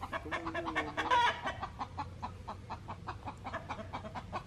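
Many farm chickens clucking together in a yard, a steady overlapping chorus of short clucks near and around, with one louder squawking call early on.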